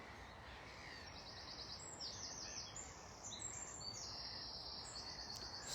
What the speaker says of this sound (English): Sound of the inland birds